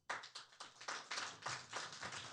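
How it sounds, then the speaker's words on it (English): At a Carson city council meeting, a small group claps for a fifth-grade girl serving as mayor for a day, producing crisp, separate claps in a quick, slightly irregular rhythm, near and soft. "Give her a round of applause."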